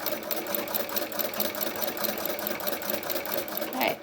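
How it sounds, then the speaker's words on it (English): A Singer 27 sewing machine fitted with a ruffler foot stitches steadily, its rapid even mechanical chatter running close and continuous with a faint voice in the background. "So we're going to go ahead and give this a try and see how badly I've messed up"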